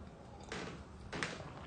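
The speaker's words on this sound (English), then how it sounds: "And if you guys hear creaking in the background, that's my wood floors." Old wooden floorboards from the 1950s creak indoors, giving two brief, soft groaning bursts about half a second apart under a quiet room hush, with no talking.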